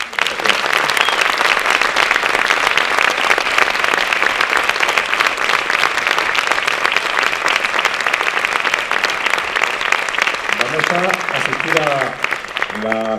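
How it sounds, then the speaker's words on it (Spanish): A sustained ovation for musicians at a Granada music festival, with a large audience clapping loudly and steadily for over ten seconds before a voice begins speaking near the end. "os pido una ovación para todos ellos"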